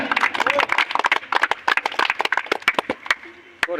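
Applause at a prize ceremony for a local cricket tournament, heard as a scattering of sharp, uneven hand claps mixed in with continuous talking.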